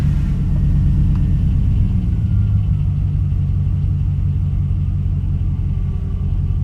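A 2000 Dodge Dakota with the 4.7 V8 runs at a steady idle after a camshaft position sensor replacement, giving a continuous low, even engine rumble close to the microphone with no voices.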